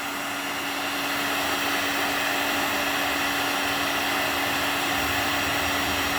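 A heat gun blows hot air onto a PVC pipe as it is warmed about 3 cm from the end to flare it, a steady, loud, even whooshing roar that runs unbroken throughout with a faint tonal whine.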